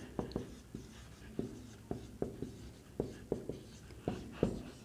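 Writing on a board during a chemistry lesson, a rhythmic series of short taps and strokes, close and fairly quiet, with no voice.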